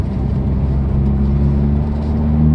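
A 2019 Hyundai Veloster N accelerating at half throttle in third gear, heard from inside the cabin as a steady loud engine drone and road rumble that rises slightly toward the end.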